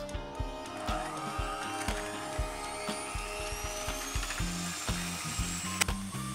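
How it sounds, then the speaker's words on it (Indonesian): A Signora digital mixer whirs with a loud, steady mechanical drone and rhythmic clattering while beating four eggs with sugar in a bowl for a lapis legit roll, with no talking. "ini saya akan menggunakan digital mixer dari Signora"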